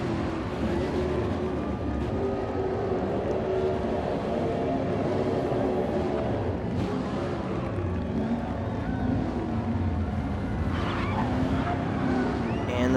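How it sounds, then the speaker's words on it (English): A NASCAR-style race car at a superspeedway doing post-race burnouts in the Firecracker 400 season finale, a continuous loud engine roar with crowd and ambience that stays steady throughout, with a commentator talking over it. "We're gonna watch him do some burnouts."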